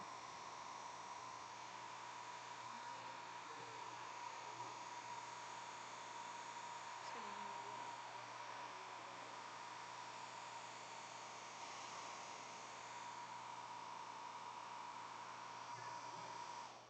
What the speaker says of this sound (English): If you're going to use a blow dryer on any of your watercolors, to help speed up the dry